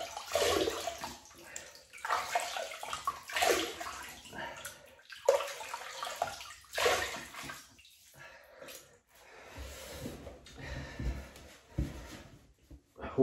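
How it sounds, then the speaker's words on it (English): Water splashing at a sink as the face is wetted for shaving, loud wet bursts in irregular handfuls with quieter gaps between them, and no talk. "So we'll just wet the face and we'll get on with it"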